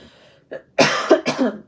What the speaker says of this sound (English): I will be coughing throughout this